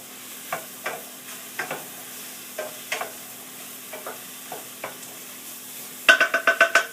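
A spoon stirs onions and little yellow tomatoes in a frying pan, producing a quiet sizzle punctuated by regular scraping knocks, then a quick run of rapid clacks near the end.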